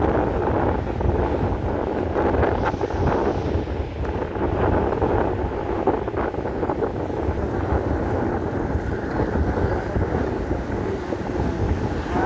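Strong coastal wind during a sea surge buffets the microphone in a steady roar, with waves and surf churning underneath, loud and continuous throughout.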